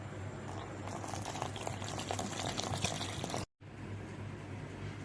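Water poured into maida flour for singada dough, a continuous close hissing, splashing stream lasting several seconds that cuts off abruptly, followed by softer background hiss.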